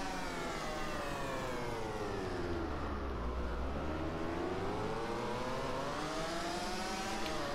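Racing motorcycles in the video game MotoGP 15 scream past at high revs, engine pitch sweeping down then climbing again as bikes pass close, a continuous loud whine with no talking.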